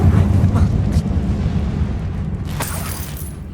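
A Confringo blasting spell from Hogwarts Legacy goes off inside an old closed mine, a deep rumbling boom that lingers as a low roar with a sharper crackle near the end.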